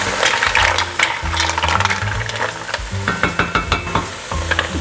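Mussels being stirred and tossed in a pot make clattering shell-on-metal rattles and scrapes, busy and close, with a denser burst at the start and sharper separate clacks toward the end.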